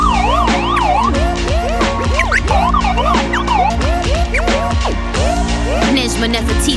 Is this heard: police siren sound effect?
yes